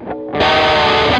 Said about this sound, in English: Kind of pretty clear, kind of almost kind of a standard kind of overdrive sound.